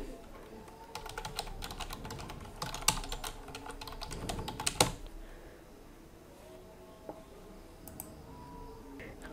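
Rapid, irregular clicking of computer keyboard keys, dense and busy in the first half then thinning to sparse taps, close and moderately quiet with no talking.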